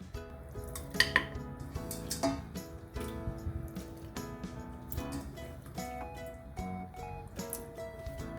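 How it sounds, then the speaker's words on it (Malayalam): One kilogram of raw beef added into a pressure cooker, soft clinks and wet squishing of meat against metal, fairly quiet and close, with scattered taps throughout. "ഇനി ഇതിലേക്ക് ബീഫ് ആഡ് ചെയ്ത് കൊടുക്കാം."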